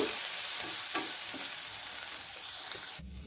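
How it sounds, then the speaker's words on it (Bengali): Turnip stir-fried in a pan with ginger, garlic and green chili, giving a steady close sizzle with scraping stirs, broken by a few soft thumps, with no talk until the frying drops away near the end. "এবারে দেব আদা, রসুন এবং কাঁচা লঙ্কা দিয়ে এটাকে আমি একটু নেড়ে নেব।"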